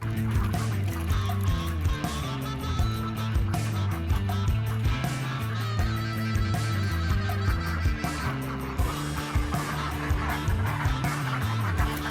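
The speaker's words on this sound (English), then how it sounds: "So that's the ducks." A flock of ducks and geese being herded indoors quack and honk continuously and loudly, a dense chorus of overlapping calls.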